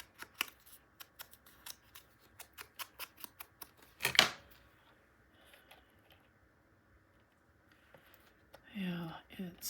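Scissors cut paper while a 9 x 9 mini album cover is being made. Quiet crisp snips come in a steady run, then one louder, longer cut follows. A soft voice murmurs briefly near the end.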